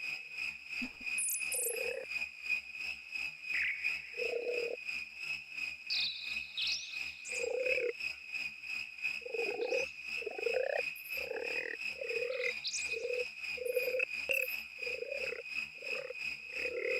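Synthesized frog chorus with repeated short croaks at an uneven rhythm, over a steady high insect-like trill and scattered chirps, continuous and fairly loud with no talk.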